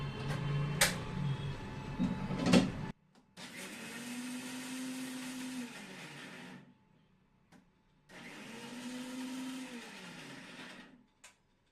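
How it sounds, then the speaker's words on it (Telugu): A kitchen mixer grinder for beetroot curry whirs loudly in two bursts of about three to four seconds each, with a short pause between them, after some clattering of the jar and lid. "కలుపుకోవటానికి ఇట్లా మిక్సీ వేస్తాను"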